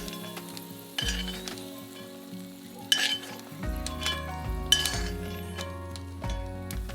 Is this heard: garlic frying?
yes